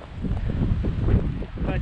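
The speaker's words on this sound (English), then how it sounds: "windy." Wind gusting over an exposed summit, a steady broadband rush with low buffeting against the microphone, loud and continuous throughout.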